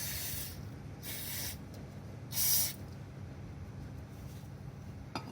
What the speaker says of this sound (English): I've just got some brake parts cleaner here